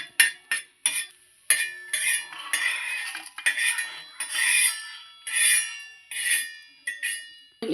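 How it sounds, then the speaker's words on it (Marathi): Coriander seeds and reddish-browned onion are dry-roasted together in a pan, with a spatula scraping and clinking against the metal in repeated, uneven strokes, close and moderately loud, with no talking. "आता इथे बघा मी थोडेसे धने टाकलेत आणि धने टाकून हे दोन्ही एकत्र भाजून घेते."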